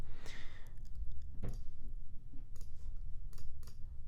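Sparse, clicky drum hits, sped up and thin, with a few scattered snaps and rattles over a low rumble.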